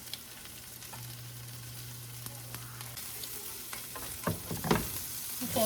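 Asparagus cooking in a pan for a steak budget meal, a soft, steady sizzle with scattered stirring scrapes and clicks growing louder toward the end, no talking.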